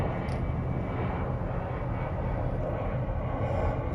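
A heater in a full-time camper van runs with a steady, loud, jet-like roar that fills the space without a break, and no voices are heard over it.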